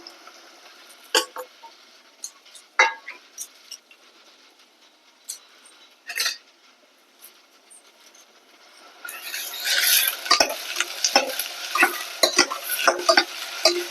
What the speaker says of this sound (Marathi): कांदा छान परतवून घेणार आहे मी इथे.